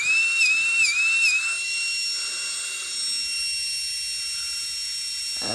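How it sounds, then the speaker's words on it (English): A thin, high whistling tone from a cracked duck egg being carved rises and wavers several times, then holds steady and faint over a low, rough scraping hum, with no voices. "If you're ever working on an egg that may be cracked, you're going to hear a whistling noise to it."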